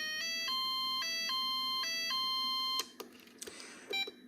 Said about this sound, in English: when you set up a rows and rows are done, the box will play a little tune